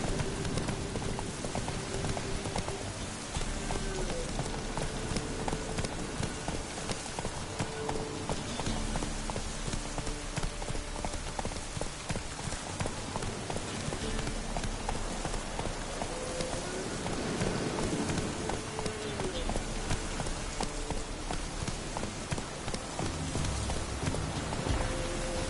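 Roach, Geralt's horse in The Witcher 3, galloping with a rapid, steady hoof rhythm that runs throughout under a dense rain-like wash and game ambience.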